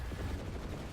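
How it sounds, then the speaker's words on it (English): Shotgun fire in a video game, a dense, loud burst of blasts and rumbling impacts packed into a single second with no gaps. "I am using the Chaos Breast Cancer Awareness Shotgun"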